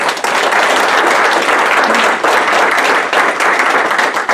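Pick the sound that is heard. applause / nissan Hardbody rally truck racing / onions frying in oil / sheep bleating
applause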